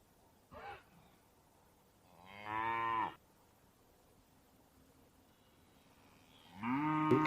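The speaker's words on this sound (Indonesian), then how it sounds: "Ini seekor sapi." A cow moos: a brief call followed by two long, drawn-out moos spaced several seconds apart, fairly faint against a quiet background.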